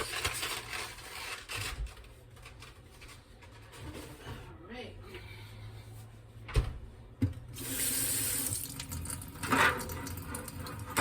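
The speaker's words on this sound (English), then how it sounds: "I'm going to go ahead and rinse my eggs off." Tap water runs over eggs being rinsed at a kitchen sink, a soft splashing stream that swells louder in the second half, with a few clicks and knocks and some quiet talk.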